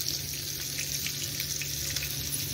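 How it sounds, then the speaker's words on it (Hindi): Slices of brinjal fry in oil on a tawa, giving a steady close hiss and sizzle with faint crackles that runs unbroken throughout, with no one talking. "तो हमने 4 इस तरह से रख दिया है और इसे फ्राई कर लेंगे।"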